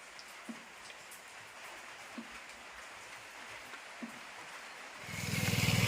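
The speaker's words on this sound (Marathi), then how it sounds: "पाऊस खूप आहे" Heavy rain falls on a village market, a steady dense hiss that swells into a louder rushing downpour near the end, with no voices.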